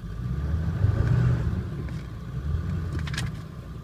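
2001 Ford F350 diesel 4x4 pickup backing up in 4-low, a steady low engine drone with mild rumble, moderately quiet and continuous, with a faint higher rattle near the end.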